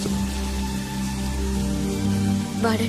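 Steady rain falls, a dense continuous hiss of drops that stays loud and even throughout, heard alone.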